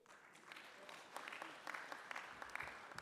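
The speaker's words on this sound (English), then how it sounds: "Clap for yourselves." Audience applause fills a judicial conference hall, a steady wash of many hands clapping at moderate level with a few sharper individual claps standing out, no talking over it.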